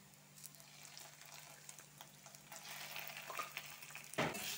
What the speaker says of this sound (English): Add a bit of sugar. Stir that in and let it caramelize.